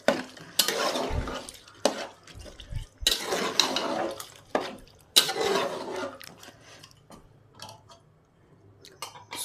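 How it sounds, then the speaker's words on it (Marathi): Rice and chicken pulao stirred in a cooking pot with a spoon, giving repeated close scraping and rustling strokes with soft sizzling between them and no talking. "हलवून घेते परत."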